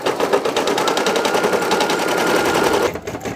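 A computerized embroidery machine stitches a spooky Halloween patch in a fast, rapid-fire rattle of needle strikes, loud and close, which stops abruptly near the end.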